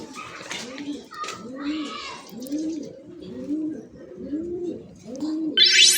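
Repeated low, rolling coos from pigeons in a steady rhythm, with scattered chirps and brief sharp calls overhead, close and fairly loud.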